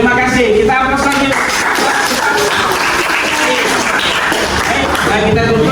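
A live audience applauds at a teacher-training university ceremony in Samarinda, steady dense clapping that runs loud throughout, with voices mixed in and an announcer talking over it.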